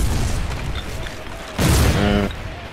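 A single heavy grenade blast against a watchtower in the pre-alpha war game Foxhole, a deep boom bursting out over steady battlefield noise, with faint tonal sounds ringing briefly after it.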